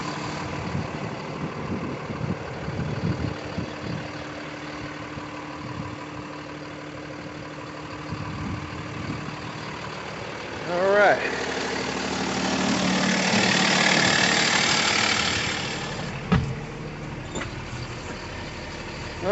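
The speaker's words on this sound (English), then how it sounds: "This is a Lazer spot truck." A Lazer Spot shunt truck's engine idles in a steady, moderate rumble that swells slightly toward the end, with a brief spoken word near the finish.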